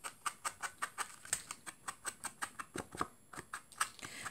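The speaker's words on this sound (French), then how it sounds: "c'est mon rideau en maille en alu sur ma baie vitrée qui claque contre le" Aluminium mesh curtain on a sliding glass bay window clattering against the glass, a quiet steady run of light rapid taps like rain pattering.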